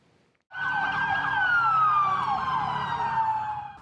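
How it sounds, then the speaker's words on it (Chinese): Police car and ambulance sirens wail together at a Florida State University campus in Tallahassee after a shooting, a loud sustained wavering tone that starts abruptly after a brief quiet and holds steady, slowly falling in pitch. "警车甲救护车警示声大响"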